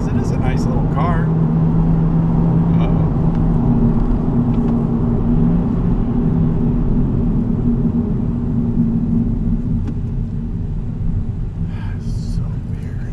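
A Nissan 370Z coupe rumbles steadily from inside the cabin as it drives, a loud, even low drone that softens slightly near the end, with people talking over it.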